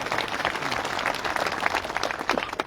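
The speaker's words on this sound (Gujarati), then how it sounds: "આપણે જોરદાર તાળીઓથી વધારીએ" A crowd at a gathering of farmers for the newly appointed Banas Bank chairman claps steadily, dense many-handed applause holding at an even, fairly loud level with no talk over it.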